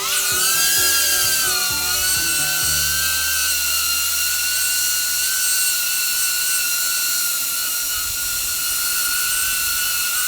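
DJI Avata drone on stock propellers lifting off and settling into a hover, a piercing high-pitched propeller whine that rises during takeoff and then holds steady and loud, with no talking.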